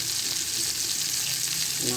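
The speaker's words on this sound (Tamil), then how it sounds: "குழம்பு நல்லா கொதிக்குது" A pot of fish curry bubbles and sizzles steadily at close range while cooking for a Tamil home lunch, a dense continuous crackle with a faint tonal whine near the end.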